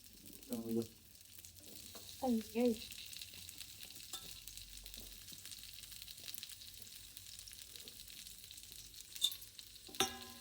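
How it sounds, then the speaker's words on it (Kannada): Okra sizzling and frying in a little oil in a small pan, a soft steady crackle under occasional stirring and utensil scrapes, with a couple of brief voiced sounds and a sharp clink near the end. "ಈಗ ಸೇಮ್ ಬಾಣಲಿಗೆ ಸ್ವಲ್ಪ ಎಣ್ಣೆ ಹಾಕ್ಕೊಂಡು ಬೆಂಡೆಕಾಯಿ ಹಾಕ್ಕೋತೀವಿ"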